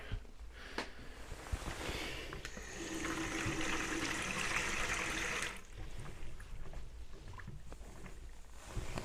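Steady rushing hiss of water pouring from a hotel sink's hot tap, starting abruptly and cutting off after a few seconds, with small clunks and handling noises around it.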